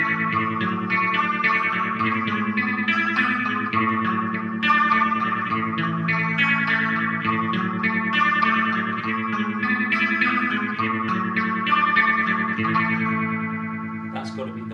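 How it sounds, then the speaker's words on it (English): Guitar played through a homemade Doppler tone effects pedal producing a bubbly, warbling modulated sound. The tone is sustained and continuous, with steady loud chords and notes throughout. "That's got to be the bubble sound in the big Doppler tone pedal we made."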